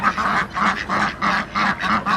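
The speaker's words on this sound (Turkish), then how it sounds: "Son kez şöyle arkadaşlar ırmaktaki ördeklerimize de bakalım." Ducks on a river quack in a rapid series of loud, evenly spaced nasal calls, close by and with no talking over them.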